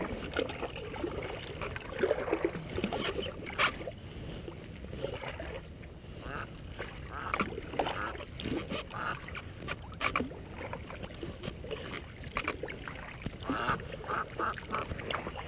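A canoe paddled across open water makes steady splashing and dipping sounds over constant outdoor wash, close and fairly loud, with occasional ducks quacking nearby.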